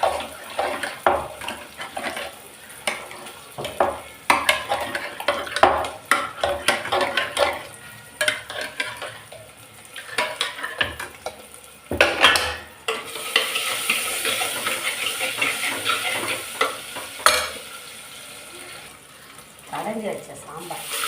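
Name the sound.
mashing cooked lentils (dal) for sambar in pot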